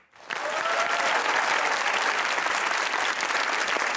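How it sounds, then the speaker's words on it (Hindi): A studio audience at a comedy talk show breaks into loud, dense applause that starts abruptly and holds steady, close and full, with no talk over it. "तो बजाइए तालियां"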